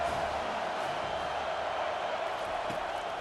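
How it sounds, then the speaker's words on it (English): A stadium crowd in the College Football 25 video game roars steadily for the defense on third down, a dense, continuous wall of cheering at even loudness throughout. "Decibels rising as the crowd gets behind this defense on 3rd down."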